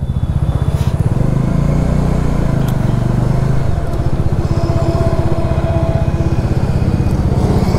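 A motorcycle engine idles and runs steadily on a long-distance Lucknow to Chandigarh ride, a loud, close, rapid low thumping pulse that holds throughout without pause.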